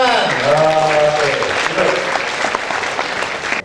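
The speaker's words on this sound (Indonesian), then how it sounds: "Oke, tepuk tangan." Classroom applause from senior high school students at SMA Taruna Nusantara in Magelang, a steady dense clatter of many hands lasting a few seconds, close and loud, with some voices and cheering mixed in.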